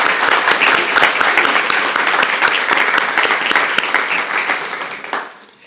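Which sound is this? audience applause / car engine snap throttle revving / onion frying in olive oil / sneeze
audience applause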